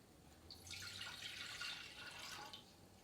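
Water pours into a pot in a steady, close hiss-like stream lasting about two seconds, fading in and trailing off, with no talking.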